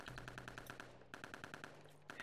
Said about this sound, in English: The snooper rifle! The suppressed infrared weapon!